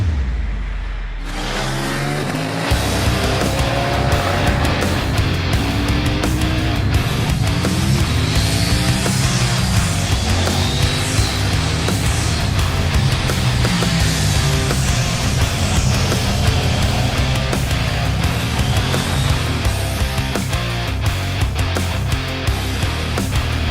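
A 2021 KTM 890 Duke motorcycle being ridden, its engine droning loud and close for the whole stretch, with rising and falling revs as it accelerates and shifts, and no voices.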